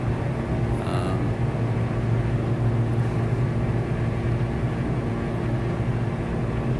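An airplane in Microsoft Flight Simulator descends on approach into a valley toward Geneva or Innsbruck, a steady loud engine and wind drone holding level throughout with no talking.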